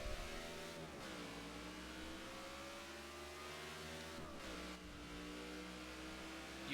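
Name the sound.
race cars accelerating at green flag, NASCAR '15 video game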